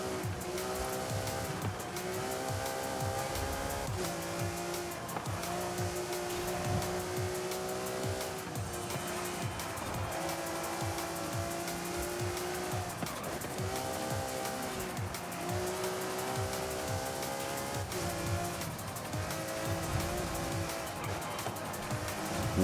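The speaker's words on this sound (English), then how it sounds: "once this car starts to slide," Tire squeal and a sliding car in the Forza Horizon 5 racing game, with a steady engine drone and sustained screeching tones running loud throughout.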